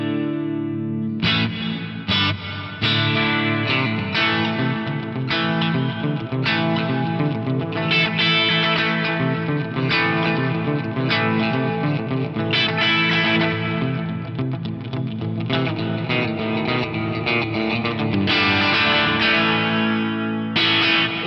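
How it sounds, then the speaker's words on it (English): An effects unit runs a London plate reverb with a multi-delay pre-swell on a sustained, layered sound. Dense, blooming washes carry on continuously at steady volume, with repeated swells and shimmering tails and no voices. "I'll let you hear the difference between just the reverb and then kicking in this multi-delay"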